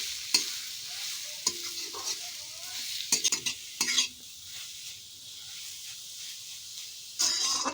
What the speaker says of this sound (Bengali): এবার আমরা গ্রেট করে রাখা গাজরগুলোকে দিয়ে দিলাম।